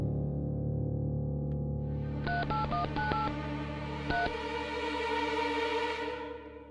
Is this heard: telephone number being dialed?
yes